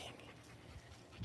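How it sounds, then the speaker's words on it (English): Dogs panting quietly at close range, a steady soft breathy rhythm with a slight whimper-like note near the end, no talk over it. "you'll have to greet my dogs"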